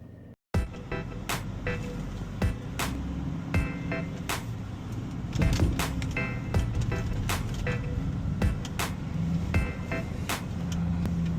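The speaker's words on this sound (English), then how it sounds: "let's get some point of view driving footage" Car with custom rims driving on the road, heard from inside: a steady low engine and road rumble that runs throughout, with small clicks and knocks from the cabin, after a brief silence at the start.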